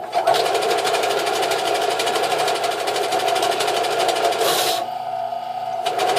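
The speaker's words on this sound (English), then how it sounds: "here's an example of how the motor can stop" A Central Machinery belt and disc sander from Harbor Freight buzzes steadily and loudly, then its motor suddenly bogs down and stops under pressure before starting up again. It is heard up close with no talk.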